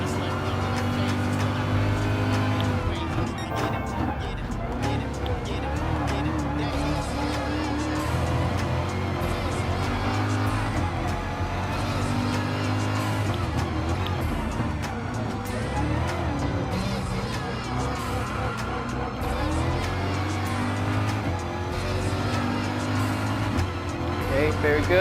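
Race car engine in Gran Turismo Sport at Circuit de Barcelona-Catalunya, with an unbroken loud droning roar that rises and falls as gears shift, plus some passing car sounds.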